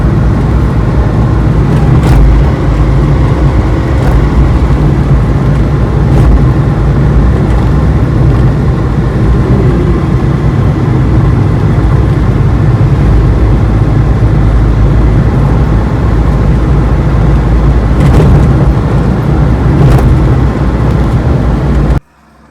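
A Maruti Eeco van driving on a road, with loud, constant engine drone and road rumble heard from inside the cabin, a couple of faint clicks, cutting off abruptly at the end.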